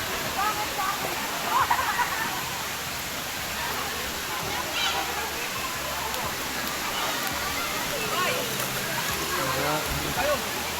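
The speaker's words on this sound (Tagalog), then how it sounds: "Ito naman lakas ng agos, no?" Strong river current rushes at Daranak Falls in Tanay, Rizal, a dense continuous roar of flowing water with people talking quietly over it.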